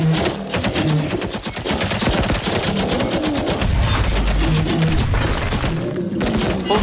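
Frag grenades burst against a tower in the survival game Dysmantle, a dense, continuous barrage of rapid blasts and crackling gunfire-like pops with low thumps underneath.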